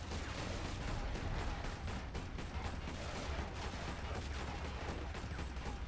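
Gunfire in the Alien Breed video game: a dense, steady barrage of rapid shots, loud and continuous throughout with no pauses.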